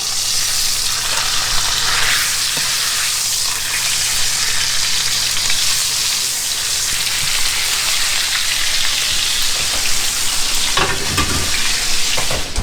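Ribeye steaks sizzle steadily in a pan of butter with rosemary and thyme, a dense, loud crackling frying hiss running without pause, with a few sharper spatters near the end.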